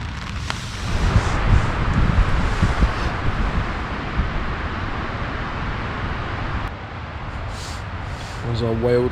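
Blustery mountain wind at a wild camp after a stormy night buffets the microphone in a continuous gusting rumble, dipping slightly near the end.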